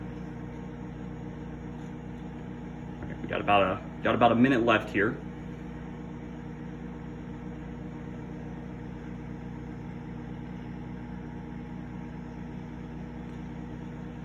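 A microwave oven hums with a steady low drone from start to finish while cooking Kraft Macaroni and Cheese, and someone briefly speaks over it.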